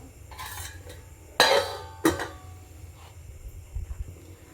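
A metal lid set down onto a pot of ridge gourd dal, giving one sharp clattering clank, with a brief second clink and soft kitchen clatter before and after.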